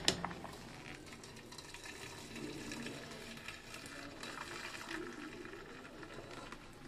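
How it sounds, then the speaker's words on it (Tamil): Starchy cooking water drains off a pot of cooked rice being prepared for curd rice, a soft, steady splashing trickle at close range with a faint clatter at the start and end. "ஸ்டவ் ஆஃப் பண்ணி சாதம் வடிச்சிடலாம்."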